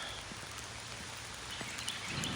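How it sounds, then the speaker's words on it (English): Rain falls steadily and fairly faintly throughout, a soft continuous wash with scattered drop patters and a slight swell near the end, with no voices. "It's raining cats and dogs."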